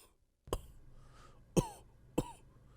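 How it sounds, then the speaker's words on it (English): A creature coughs dryly, its throat full of dust, three sharp separate coughs spread over a few seconds, close and alone against near silence. "what you see is dust coming out of its mouth as it coughs and tries to find its voice"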